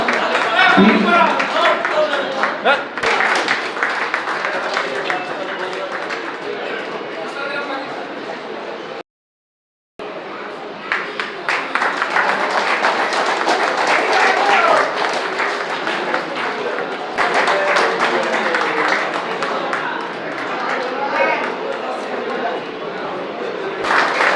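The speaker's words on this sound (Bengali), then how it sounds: "একটু জোরে হাততালি" An audience at a prize distribution ceremony in South Howrah claps in long, dense bursts of applause, broken by a brief silence near the middle, with a voice speaking over parts of it.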